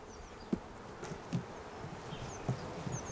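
Honey bees from a recently collected swarm hum around an open hive box, a faint steady buzz with a few soft thumps under it and no voices.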